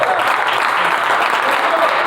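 Church congregation applauding at a Spanish-language service in Hermiston, Oregon, a dense steady roar of many clapping hands filling the whole stretch at even loudness.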